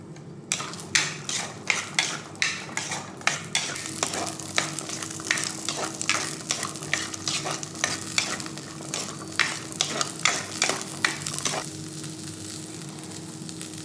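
A utensil stirs brinjal frying in a little oil, giving repeated scraping knocks in an irregular rhythm over a soft, steady sizzle, close and fairly quiet.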